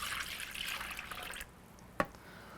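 Orange juice poured for a marinade, a soft liquid stream for about a second and a half, then stopping, followed by a single sharp drip or clink.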